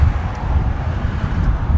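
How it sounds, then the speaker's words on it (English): Steady low wind rumble buffets the microphone while riding a Samebike LO26 Version 2 e-bike outdoors on a very windy day, a continuous close roar with no talk. "It is very windy"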